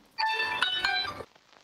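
A mobile phone ringtone chimes briefly and clearly, a short bright melodic burst of about a second, heard up close during a Cuphead gaming session with no speech over it.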